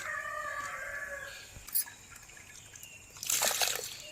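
Near the end, rice pours into simmering water with a brief rushing, splashing patter, following a soft bubbling background.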